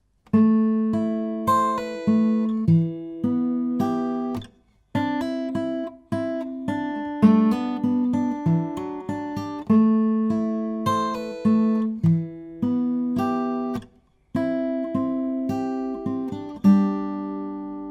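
Fingerpicked acoustic guitar playing a song intro, a steady flow of plucked chord notes with short pauses between phrases, close and clear and played alone without talk.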